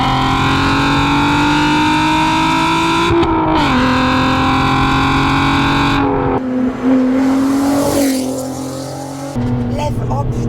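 A Volkswagen Golf R32 engine revs hard and accelerates, its loud, raspy note climbing steadily and then shifting through gears, with voices underneath.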